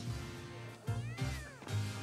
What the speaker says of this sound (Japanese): めっちゃニャー聞こえる、ここ。